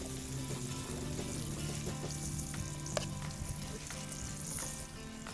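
Flour-dredged pieces frying in a pan over a homemade rocket log stove outdoors, giving a steady close crackling sizzle with bursts of stirring and scraping throughout, no talk.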